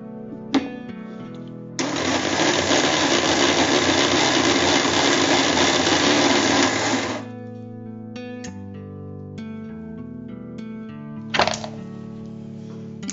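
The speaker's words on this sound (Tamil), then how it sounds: "சோ கட் பண்ணி வச்சிருக்கிற மாம்பழம், நாட்டு சர்க்கரை, அதோட 1 cup பால் சேர்த்து இப்ப மிக்சியில கிரைண்ட் பண்ண போறாங்க" A kitchen mixer grinder blends cut mango, jaggery and a cup of milk, a loud dense whirring burst lasting about five seconds, followed by quieter clunks and a second short whir.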